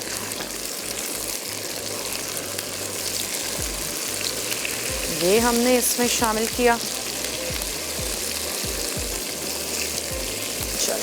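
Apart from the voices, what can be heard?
mutton frying with garlic and ginger in pot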